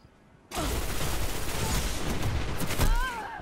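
Heavy sniper rifle gunfire and dense combat noise from the video game Destiny during a team match, a loud sustained burst erupting after a quiet half second and holding with sharper shots near the end.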